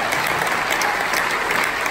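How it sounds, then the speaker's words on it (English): Applause from a live audience at the CMA Theater in Nashville, a dense, steady wash of clapping lasting a couple of seconds at an even level. "we need to give them a round of applause"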